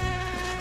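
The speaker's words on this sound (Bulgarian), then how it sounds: "Комарите са ненормална работа, точно това ще я ви казвам." Mosquitoes buzzing on a Danube island, a steady close-up insect drone holding throughout with no talk.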